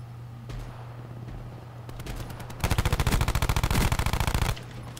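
Automatic weapon fire from a Black Ops 4 multiplayer match: a fast, steady burst of roughly twenty close, loud shots lasting about two seconds, with a few scattered single shots and ambient game noise before it.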